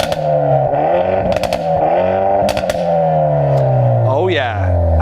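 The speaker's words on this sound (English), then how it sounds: "Go on, start it up and rev it." Close, loud Hyundai i30 N hot hatch with a raucous sports exhaust starts up and is revved repeatedly, the engine note rising and falling through several sharp blips and crackles before settling back toward idle.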